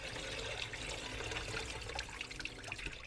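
Water splashes and trickles steadily over rice being rinsed in a pot, a soft close wash of liquid with no voices.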